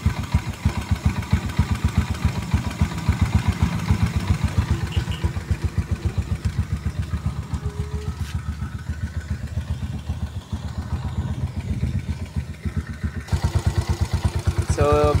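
A cold motorcycle engine runs at a steady, rapid idle with a continuous close putter and clatter, filling the whole stretch with no talk over it.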